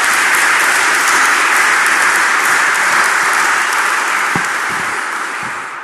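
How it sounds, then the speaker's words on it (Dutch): A large audience applauds at a mayor's installation ceremony in Zoeterwoude, in a dense, sustained wash of clapping that gradually fades near the end. "Misschien dat een applaus nog op zijn plek is"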